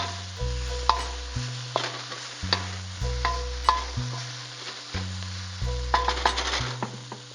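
Vegetables sizzling in a hot pan while being stirred constantly, with repeated scraping strokes and metallic clinks of a utensil against the pan in a loose rhythm.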